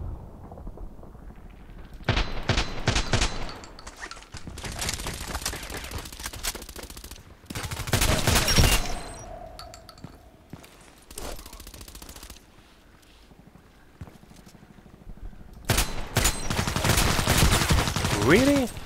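Shotgun fire in a first-person shooter during a headshots match comes in dense bursts of loud, close blasts, separated by quieter stretches. The longer volleys run together like rapid fusillades.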